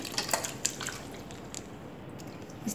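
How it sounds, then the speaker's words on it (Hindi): Water draining from soaked poha (flattened rice) in a home kitchen, soft close drips and wet squishing trickles that thin out over a few seconds. "इस तरह पानी निकाल देंगे,"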